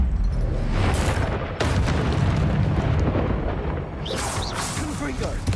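Spell blast from Expelliarmus in the video game Hogwarts Legacy, a loud sustained booming burst with a sharp crack partway through, then fizzing magical effects.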